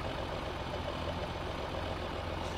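A newer Case tractor engine idles in a farming video game, a steady low rumble that holds evenly throughout at a close, moderate level with no voices over it.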